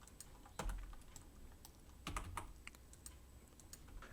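Computer keyboard keys tapped for Blender shortcuts while modeling a low-poly forest, a few light scattered clicks at an unhurried, irregular pace, faint and close with no other sound.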